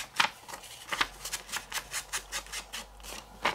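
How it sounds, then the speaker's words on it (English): A paper envelope being folded and creased by hand for a junk journal, a series of close crisp rustles and scrapes in an irregular rhythm, fairly quiet. "I'm going to fold it as well."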